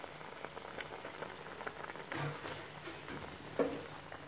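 Vada curry gravy bubbles in a pot at a low, steady simmer, faint soft popping and gurgling close by.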